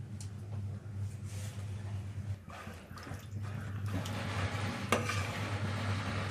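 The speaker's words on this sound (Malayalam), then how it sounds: "സൈഡിലുള്ള എല്ലാം ഇളക്കിയിട്ട് കൊടുക്കാം" Kadala payasam, a chickpea dessert, is stirred in a pot. The stirring gives soft, irregular scraping and bubbling sounds at low level, with a steady low hum underneath.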